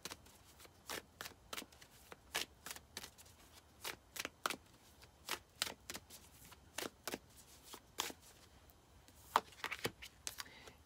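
A deck of cards is shuffled for a tarot-style card reading: a steady run of crisp riffling bursts, close and distinct, repeating about once a second with short gaps between, and no voices.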